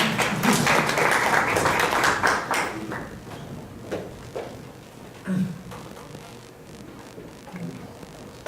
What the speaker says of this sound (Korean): 큰 박수로 모셔보겠습니다